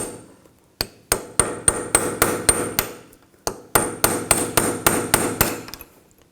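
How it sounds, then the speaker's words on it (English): A chisel struck repeatedly with a hammer against the peened-over hub nut on a 2000-2006 BMW X5 rear hub, sharp metallic blows in two quick runs of about seven and eight strikes, close and loud, with no talk. "I'm just going to use a chisel and just try to bend it back just a little bit"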